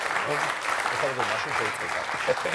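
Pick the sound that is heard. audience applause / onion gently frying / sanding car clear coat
audience applause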